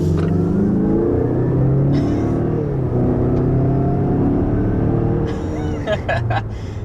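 A 2021 Mazda CX-5 with a 2.5-liter turbocharged four-cylinder accelerating hard, a loud sustained engine drone climbing steadily in pitch, heard close, with a few sharp clicks and knocks near the end.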